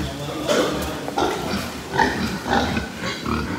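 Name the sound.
pigs on a farm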